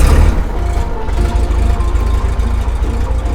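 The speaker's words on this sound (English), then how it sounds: "Clear! And start the engine." Bearhawk airplane engine cranking and catching, a loud, steady low rumble that runs throughout, close and alone with no talking.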